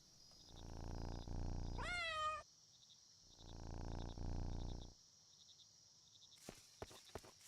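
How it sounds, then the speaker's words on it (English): A cat being petted in the video game Under The Island, with two long purring rumbles separated by a short rising meow, then a few quick clicky footstep-like taps over a faint steady game tone. "Can I pet the cat? I can pet the cat."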